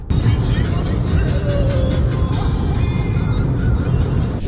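Toyota RAV4 GR Sport driven hard, with a steady, loud engine and road roar that holds throughout and a brief rising tone partway through.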